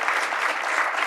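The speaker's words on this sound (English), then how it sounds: "Let's give her a round of applause if we can." A crowd gives a round of applause for a councilwoman at a Cleveland mayoral conversation event, a continuous dense wash of many hands clapping with no break.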